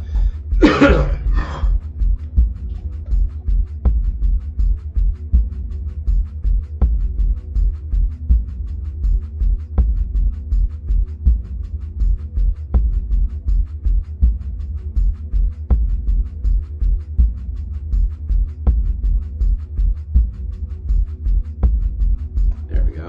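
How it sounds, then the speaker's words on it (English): A short burst of coughing near the start, then a low throbbing hum with faint regular ticks continues for a long stretch without speech. "Once again, a coughing fit."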